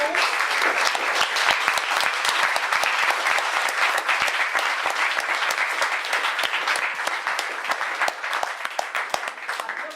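Applause from a seated audience for a panel at a festival of ideas at St Giles House, dense and sustained, with individual claps standing out sharply as it tapers near the end.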